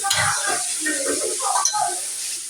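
Chickpeas cooked as a snack sizzle and get stirred in a pan, a close, continuous frying hiss with soft scraping strokes throughout.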